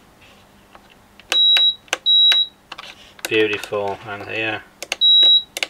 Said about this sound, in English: Let's pop the multimeter on those connections.